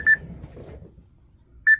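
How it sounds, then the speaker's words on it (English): An electronic buzzer gives two short, sharp beeps about a second and a half apart, clear and close with a quiet low hum between them. "I can't find that buzzer."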